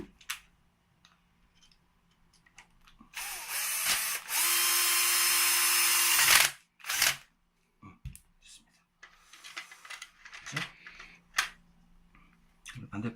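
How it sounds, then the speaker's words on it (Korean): A power screwdriver drives screws back into the brewing unit of an office coffee machine, a loud whirring run of a few seconds with a short second burst, surrounded by clicks and handling noises and someone talking. "나사, 다시 나사를 장착하도록 하겠습니다"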